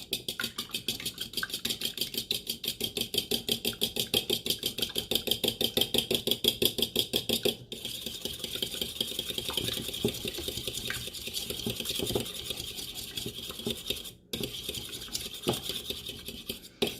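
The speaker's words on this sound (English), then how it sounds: "We're going to begin by beating an egg." An egg being beaten briskly with a utensil in a bowl, a fast steady clicking and tapping that runs for several seconds, with short pauses, close and fairly loud, as a binder for homemade meatballs.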